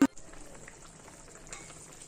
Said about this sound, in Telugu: మిక్సీ కడిగిన నీళ్ళు కూడా ఇందులో పోసి నూనె తేలేంత వరకు ఉడకనివ్వాలి